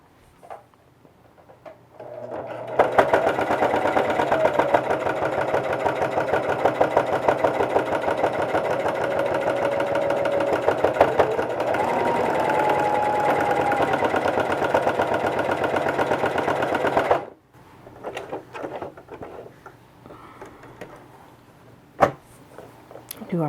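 A home sewing machine stitches a fabric face mask in a long, loud, continuous mechanical hum with a rapid needle rhythm, starting after a quiet moment and cutting off after about fourteen seconds, followed by light handling noises.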